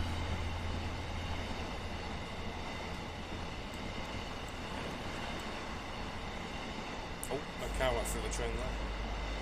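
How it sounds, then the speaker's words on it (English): A train passes in Train Simulator 2019 on the North East England route near Allens West and Eaglescliff, giving a steady rolling rumble with faint wheel clatter and a brief rise near the end, while a voice speaks quietly. "Train there."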